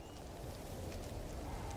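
Steady rain falling in the No Man's Sky game world, a continuous hiss of drops spread evenly across the whole stretch with no pauses or voices.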